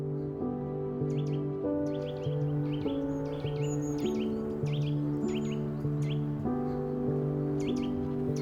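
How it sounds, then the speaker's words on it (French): Birds chirp and tweet in trees in Brno, quick repeated bursts over a steady bed of sustained tones, the calls fairly close and lively throughout. "On apprécie d'entendre les oiseaux chanter dans les arbres"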